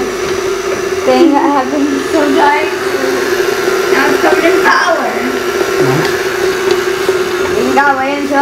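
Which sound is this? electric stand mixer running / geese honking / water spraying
electric stand mixer running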